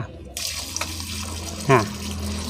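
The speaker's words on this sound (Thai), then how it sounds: "น้ำที่ไหลออกตรงนี้คือระบบน้ำประปานะครับ" Tap water runs steadily from a pipe at a mains-water and pump installation, a continuous close hiss of flow with a brief thud partway through.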